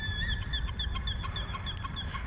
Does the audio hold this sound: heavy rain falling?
no